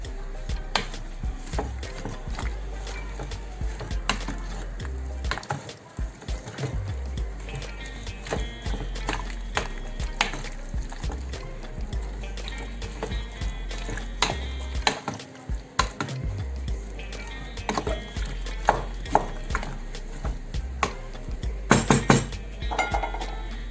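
Red pepper pickle being stirred in a pot gives off light metallic clinks and scrapes that keep up steadily throughout and sound close.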